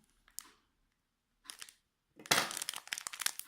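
Scissors cut into the crinkly foil wrapper of a Yu-Gi-Oh booster pack. Two short, quiet rustles are followed by a louder, denser stretch of crackling plastic and snipping.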